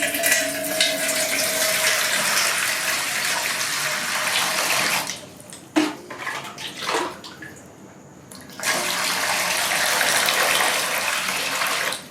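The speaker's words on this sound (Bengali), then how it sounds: "মাশরুমগুলো আমি একটু ধুয়ে নিচ্ছি ভালো করে" Tap water runs steadily and loud while mushrooms are washed for a mushroom curry, breaking off briefly into splashes and handling noises midway before the full flow resumes.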